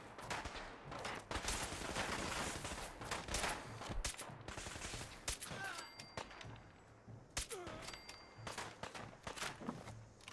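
Sustained bursts of automatic and single gunfire from a Fallout 4 firefight at the Quincy Ruins, loud and rapid with brief pauses and metallic clinks, and little talk.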